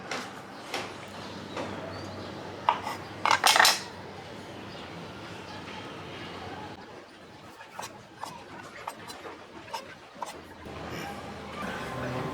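Repeated light knife taps and scrapes against a plate while cutting okra, with a brief clatter of dishes, faint birds cooing in the background.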